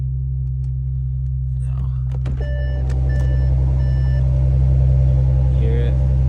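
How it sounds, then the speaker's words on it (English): A supercharged Audi A7 on a very cold start settles into a loud, steady idle, a deep continuous rumble that swells slightly as it runs, with a brief spoken word and a few high electronic beeps over it. "Idle's pretty loud, but that's what happens when the motor is super cold"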